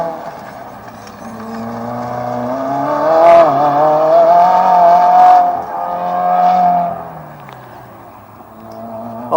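Race cars at an autocross event, an engine note climbing and falling as a car accelerates through the course, with a tire squeal in the middle, loud and moderately close, fading at the end.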